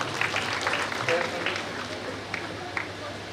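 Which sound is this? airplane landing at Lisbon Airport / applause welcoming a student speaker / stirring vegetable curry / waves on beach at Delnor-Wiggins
applause welcoming a student speaker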